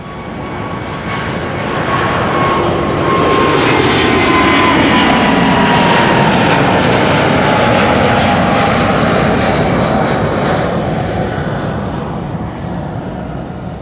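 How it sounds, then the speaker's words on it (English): An Airbus A350 takes off from runway 24, the Kaagbaan, at Schiphol, a loud, steady jet engine roar that swells and stays strong throughout, heard alone without talk. "Well, there it goes. First A350 of the show."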